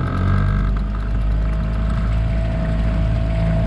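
A motorized kayak's outboard motor accelerates on open water, a loud, steady droning engine with splashing and rushing water, continuous throughout.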